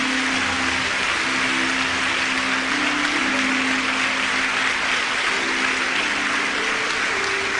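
A church congregation applauds in praise, a broad, even wash of many hands clapping that fills the hall without pause.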